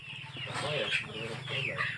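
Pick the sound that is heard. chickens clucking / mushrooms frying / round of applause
chickens clucking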